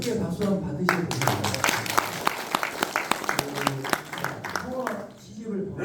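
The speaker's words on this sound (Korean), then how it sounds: "이것도 크게 박수 한번 받으셔야 됩니다." An audience at a live book concert for a poetry collection about skate (hongeo) claps for several seconds, with sharp individual claps rising above a murmur of voices and fading as talk resumes.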